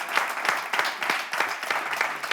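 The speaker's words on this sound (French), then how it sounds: "S'il vous plaît, on applaudit très fort Certi." Audience applause at a live show, moderately loud clapping from a crowd, brief and steady.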